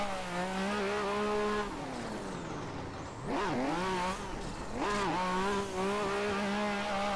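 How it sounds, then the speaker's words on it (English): Car drifting on a bumpy city street in Assetto Corsa, with a high-revving engine that rises and falls between shifts and tire squeal through the slides, loud and close, with no talk. "City street drifting, always fun."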